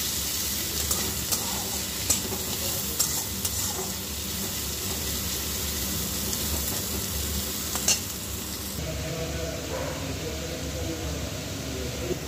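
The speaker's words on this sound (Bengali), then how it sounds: "এবার পেঁয়াজটা ভেজে নেব।" Chopped onion frying in a little oil in a pan for a light chicken curry, a continuous soft sizzle with occasional scrapes and clinks of a spatula stirring, close and steady, with no talking.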